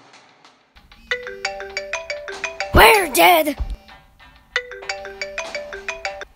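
A phone ringtone that won't switch off plays as a repeating electronic melody, loud and close, broken up by a short panicked shout in the middle before the tune starts up again.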